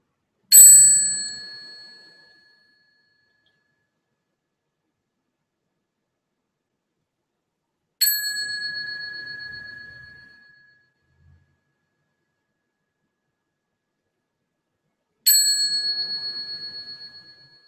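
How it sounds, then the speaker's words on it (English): A meditation bell is struck three times, slowly and evenly spaced, each clear ring fading away into silence before the next. "together we'll dedicate the merit with the sound of the bell"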